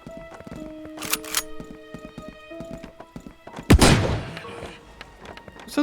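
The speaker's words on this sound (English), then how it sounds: "So the shotgun's relatively satisfying" A shotgun fires once in the survival horror game Outbreak: Contagious Memories, a single loud close blast with a decaying tail, set among quieter game tones and clicks.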